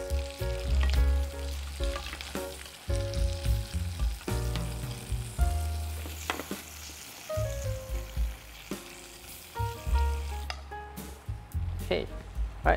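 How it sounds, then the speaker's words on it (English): Prawns sizzle in a frying pan just after being flipped, a steady soft frying hiss running under prominent background music and a voice. "And so I'm going to flip the prawns."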